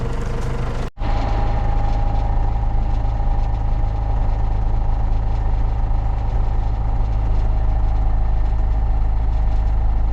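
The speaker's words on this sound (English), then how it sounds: "don't sit right next to the tractor" A farm tractor sits idling nearby at a lamb-weighing session, giving a steady low rumble throughout with a brief cut near the start and no talk.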